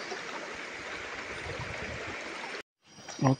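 A shallow river in the Lubuk Tedung area of Kemensah rushes steadily as broadband flowing water, close and continuous, then cuts off briefly before a short louder splash-like burst at the end.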